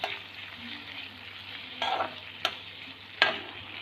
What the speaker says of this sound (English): first I am going to fry these things